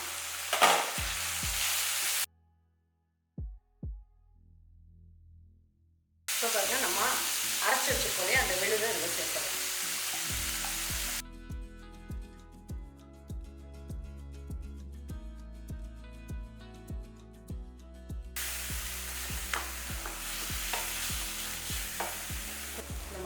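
Radish masala cooking in a pan is stirred with a spoon, giving loud sizzling and scraping broken by two brief gaps, with repeated clinks of the utensil against the pan.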